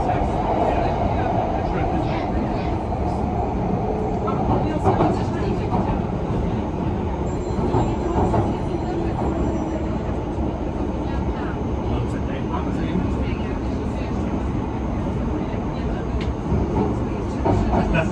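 A London Underground Piccadilly line train rumbles along steadily, a loud continuous roar and rattle of carriages in motion, with no clear talk.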